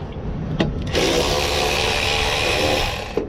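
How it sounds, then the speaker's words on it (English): A Milwaukee power ratchet loosens a bolt on a coolant surge tank, a steady buzzing motor whir running close and loud for about two seconds, with short clicks just before and after. "we're gonna use the trusty old Milwaukee ratchet"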